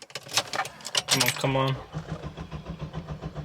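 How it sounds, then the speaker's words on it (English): A Ford Mustang EcoBoost engine cranks briefly, then catches and settles into a steady idle close by, with a short spoken remark over the start. "let's just see if this car starts up"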